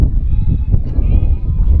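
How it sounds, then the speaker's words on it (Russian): Goats bleat from a short way off in rural Bulgaria amid a low rumbling, windy outdoor background, their cries rising briefly over the noise. "Там еще, вон там, козы кричат."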